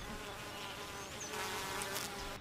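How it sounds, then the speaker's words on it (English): A steady, dense insect buzzing of many honey bees in a hive, continuous and fairly close, with no voices. "Worker bees do almost all the chores in the hive."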